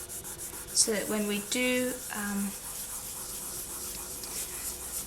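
A striped polymer clay sheet is rubbed smooth by hand, giving a soft, steady scuffing under a person talking nearby.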